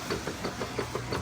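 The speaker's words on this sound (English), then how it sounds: "Transmission's got a little knock to it." Kenmore 600 top-load washer mid-wash cycle with a worn transmission, giving a steady mechanical rumble and a faint repeating knock roughly every fraction of a second, close and continuous with no talking.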